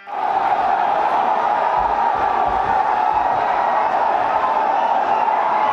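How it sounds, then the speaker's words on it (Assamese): Mohun Bagan football supporters roar in victory after a 2-0 win in Guwahati, a dense, continuous crowd of cheers and chanting held at steady loudness throughout. "ঘৰুৱা দলটোৱে 2-0 গলত জয়ী হোৱাৰ পাছতে মোহন বাগানৰ সমৰ্থকে কৰিলে বিজয় উল্লাস"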